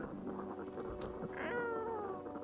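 A pet cat meows nearby, a drawn-out, rising-then-falling cry over a murmur of low background noise.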